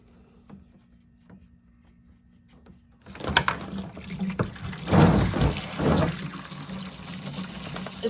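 Coolant draining from the radiator drain plug of a 2011 Subaru Impreza 2.5i. After about three seconds of near silence, a splashing, gurgling stream starts and keeps running steadily.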